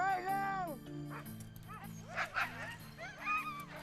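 Sled dogs barking, yipping and whining outdoors, several animals calling in overlapping bursts at moderate distance, with a voice running underneath.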